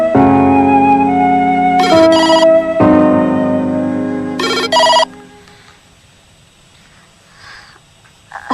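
A telephone rings with a melodic electronic ringtone, two loud tonal bursts over a sustained tone, then stops; the line goes quiet with faint background noise.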